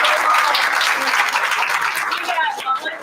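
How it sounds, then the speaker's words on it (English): Audience applause at a school board meeting, a loud burst of clapping that fades toward the end, with a little talk underneath. "I want to give a round of applause to Miss Holly Tennyson."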